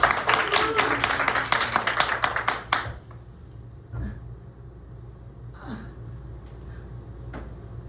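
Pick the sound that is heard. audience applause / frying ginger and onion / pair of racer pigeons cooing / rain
audience applause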